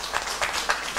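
An audience at an official results release applauds ministry officials, a brief burst of scattered clapping in a hall.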